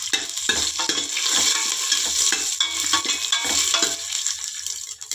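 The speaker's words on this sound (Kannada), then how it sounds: "ಅದ್ರ ಜೊತೆಗೆ ಬೆಳ್ಳುಳ್ಳಿನ ಜಜ್ಕೊಂಡು ಹಾಕಿ ಒಳ್ಳೆ ಘಮ ಕೊಡ್ತೈತೆ" Crushed garlic fries and sizzles in a hot pan, a loud, close, steady crackle with rhythmic scraping from a spoon stirring throughout.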